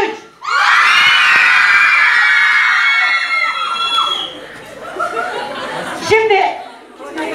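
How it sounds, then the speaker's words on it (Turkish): A group of high-school girls lets out a long, loud, sustained scream together in a school setting, holding it for about three seconds before it breaks into scattered shrieks, laughter and chatter. "Şimdi bir, hayatınızın en büyük çığlığını atacaksınız."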